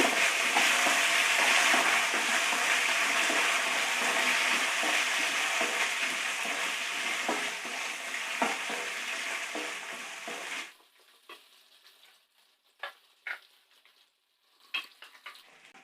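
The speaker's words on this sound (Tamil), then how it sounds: "வெங்காயம் நல்லா வதங்கிடுச்சு." Small onions and curry leaves sauté in a pan for a brinjal and potato kadayal, a loud steady sizzle with scraping stirs that cuts off abruptly near the end, leaving faint scattered clicks and taps.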